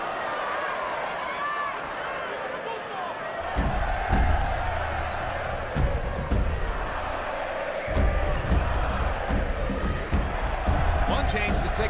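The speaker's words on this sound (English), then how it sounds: "Crowd wants more action to go with all that intensity." An arena crowd murmurs and swells during a Pacquiao–Marquez boxing fight, a broad continuous roar with brief surges and thumps, under a commentator talking.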